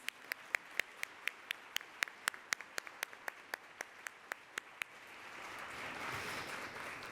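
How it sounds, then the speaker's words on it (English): A round of applause starts as a few single claps, sharp and evenly spaced close by, and swells into a broad wash of clapping from the whole audience toward the end. "we want to give you a real round of applause"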